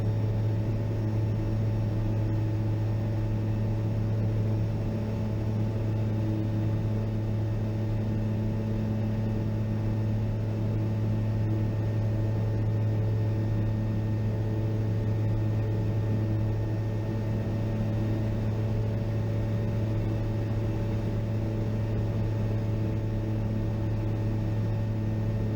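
Steady droning engine of an Aeroprakt light aircraft in flight, a constant loud hum with a strong low tone and a broad wash of wind noise, unchanging throughout with no talk.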